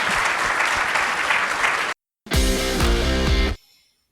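Audience clapping rises thick and steady for about two seconds, then cuts off abruptly; after a short silence, a burst of music follows and fades out.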